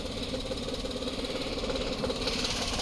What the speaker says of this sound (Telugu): ఇంజన్ కూడా ఎంత సైలెంట్ ఉందో